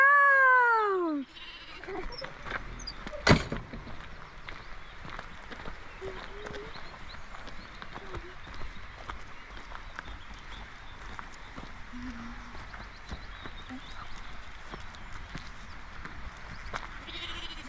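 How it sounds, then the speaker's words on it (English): One sheep bleats loudly and close at the start in a field in the Lake District, followed by quiet outdoor ambience with footsteps and faint distant sounds. "So we're just walking through a field with all the sheep."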